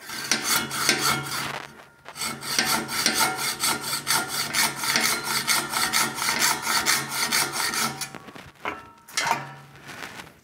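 A solid metal tube being cut by hand for the motorcycle rearsets of a 1974 Ducati 750 GT in a workshop, with steady rhythmic rasping saw strokes, a short pause, and then more strokes.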